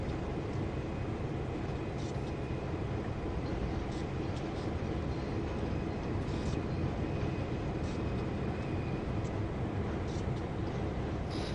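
A GP38 diesel locomotive runs light with no train in Train Sim World 2 on the Oakville Subdivision, giving off a loud, steady engine rumble and roar that holds without a break.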